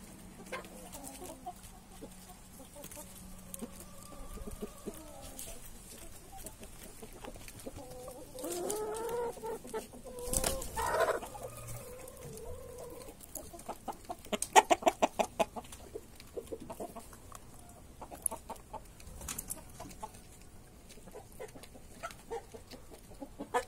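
Hens clucking in a backyard coop, scattered soft clucks and murmurs with occasional sharper calls, fairly quiet, with a person talking over parts of it.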